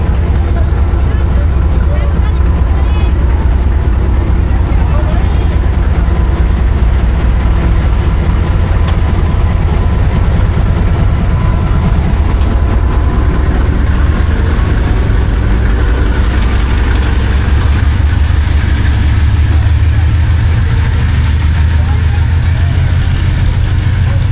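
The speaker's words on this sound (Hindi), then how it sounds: "ये बहाउद्दीन ज़िक्रिया एक्सप्रेस चली गई" The Bahauddin Zakariya Express pulls away from a station platform, producing a loud, continuous low engine rumble and rolling drone that stays steady throughout, with voices faintly mixed beneath the noise.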